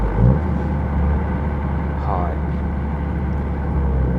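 A Honda FK7 fitted with an HKS Hi-Power Spec L2 exhaust gives a deep, steady rumble with a brief rising engine note partway through, fairly loud and heard alone.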